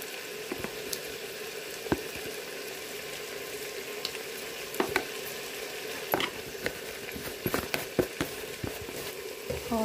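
Homemade masala roasting in a pan with a steady soft sizzle and crackle, punctuated by occasional sharp clinks and scrapes of stirring.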